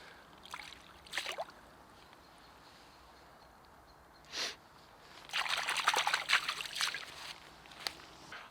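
Water splashing and trickling as a pike is released back into a lake, soft scattered drips and sloshes with a denser burst of splashing later, close and quiet.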